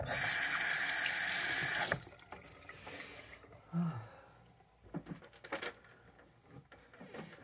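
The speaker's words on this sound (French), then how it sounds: "Je vais me nettoyer le visage après ça." Tap water runs hard into a sink for face washing, a steady close rush for about two seconds before it shuts off, followed by faint handling knocks and rustles.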